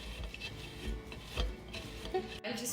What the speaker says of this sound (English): Grate some paneer.